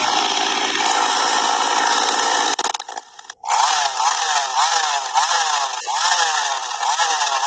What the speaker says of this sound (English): Oh, it's a chainsaw.